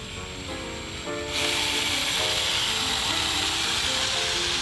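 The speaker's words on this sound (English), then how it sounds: "add a hole saw. This is a 3/4 inch hole saw. And we're gonna widen that hole at this thin end right here." A 3/4 inch hole saw on a power drill widens the hole in the thin end of a carrot, a steady whirring grind that grows louder and rougher after the first second and runs on continuously.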